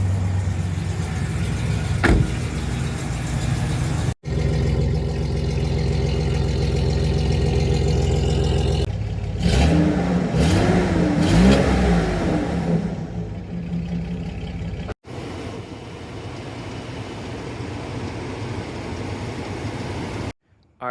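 A Chevrolet Silverado pickup engine with about 317,000 miles idles steadily, then revs up several times in quick rising bursts before settling back into a low, rumbling idle.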